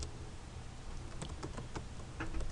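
Keys tapped on a computer keyboard while entering a command at a command prompt, a run of quick, light clicks in an irregular rhythm over a steady background hiss, with no voice.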